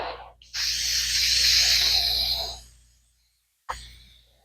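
An old aerosol spray can spraying onto boat seat foam cushion: one sustained hissing burst of about two seconds, close and moderately loud, followed by a short second spurt after a pause.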